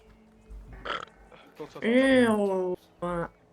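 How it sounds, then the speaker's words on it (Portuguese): A drawn-out, wavering burp swells and fades over about a second, with shorter voiced gulps before and after it, close and fairly loud, amid quiet game background. "Arrota mais, arrota mais."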